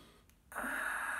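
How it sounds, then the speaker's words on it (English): A single long, raspy ujjayi yoga breath drawn through a constricted throat with the mouth shut, soft and hissing, starting after a brief quiet pause. "Soft, silky, whistling, ujjayi breath, that raspy sound from the back of the throat."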